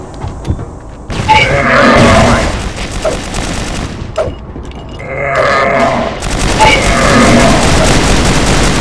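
A grenade blast in the CrossFire shooter game lands amid loud, dense game sounds, with bursts of gunfire and effects filling most of the stretch and a brief lull in between.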